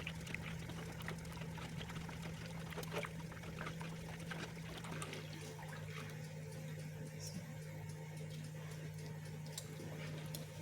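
Water poured into a rice flour batter for bingka made with coconut milk, a steady trickling pour running continuously with a faint ticking in the background, no talk over it.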